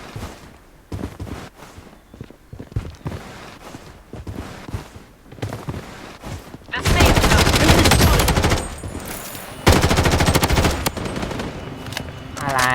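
M4 rifle fire in the shooter game Blood Strike, with sustained loud automatic bursts dominating the second half after quieter footsteps and scattered shots, the rapid fire cutting off briefly and resuming.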